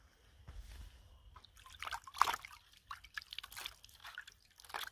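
Water trickling and dripping into a pet's drinking bowl, a soft irregular patter of drips and small splashes at close range, fairly quiet, with no voices over it.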